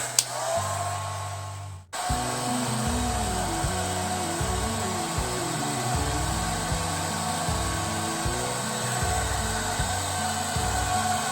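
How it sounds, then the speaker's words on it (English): Up close, a hair dryer blows on freshly washed, dyed hair with a steady loud whooshing hum after a brief start, the airflow wavering as it moves around, with no talking. "Now I'm going to blow dry my hair."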